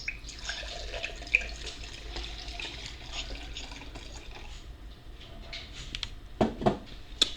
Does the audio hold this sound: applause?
no